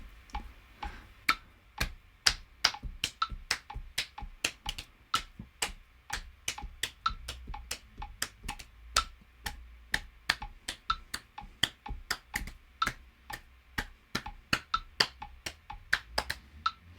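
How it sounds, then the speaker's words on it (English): A metronome ticks steadily at an even tempo, with sharp hand claps layered over it in a syncopated rhythm, close and clear throughout. "I'm going to turn on the metronome. I'm just going to clap this"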